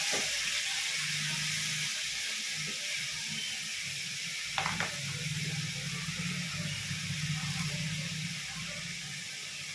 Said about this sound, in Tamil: நல்லா வதக்கி விட்டுருவோம் தக்காளி